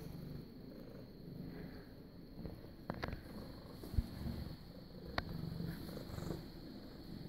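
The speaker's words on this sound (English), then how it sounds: "I can hear you trilling." A female cat trills softly, a low purring rumble close by in a quiet room, with a few faint clicks and taps.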